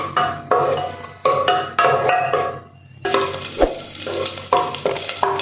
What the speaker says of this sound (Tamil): தேங்காய் போட்டு ஃபஸ்ட்டு நம்ம ஃப்ரை பண்ணிப்போம்.